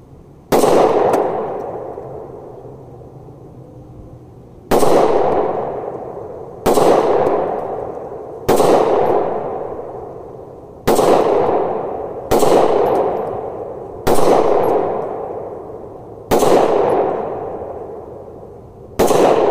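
Hi-Point C9 pistol fired outdoors into an embankment, eight loud, sharp shots at uneven intervals a couple of seconds apart, each ringing out and decaying before the next.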